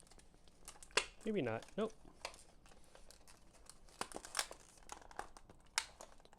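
Plastic blister packaging of an Energizer MAX C battery four-pack is torn open by hand in a short, close crinkling burst, with quiet rustles and taps before and after and a person speaking throughout.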